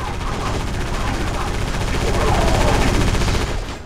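Rapid automatic gunfire rattles continuously and loudly in the PS2 game Area 51, a dense burst of shots lasting a few seconds before cutting off.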